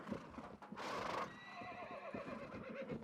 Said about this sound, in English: over here, you can see a horse detachment.